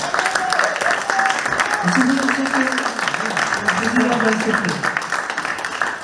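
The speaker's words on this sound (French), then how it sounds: "on va rappeler notre cher président, sous vos applaudissements également, bien sûr." An audience applauds for the president with steady clapping throughout, partly under a speaker's voice and some music.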